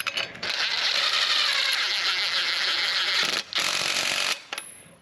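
A power tool spins a nut onto a spare tire mount on a 6x10 cargo camper, a loud close whirring that runs in bursts with two short breaks before stopping.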